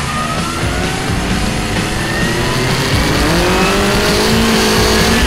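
Onboard sound of a race car lapping a circuit at Croix-en-Ternois, a loud, constant engine drone rising in pitch under acceleration, with wind and road roar throughout.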